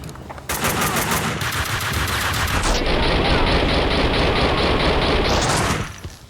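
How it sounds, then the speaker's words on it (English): Rapid sustained gunfire from the video game Max Payne 2, dense automatic bursts blending into a continuous loud roar of shots that cuts off abruptly, with no talking. "Firing a gun is a binary choice. You either pull the trigger or you don't."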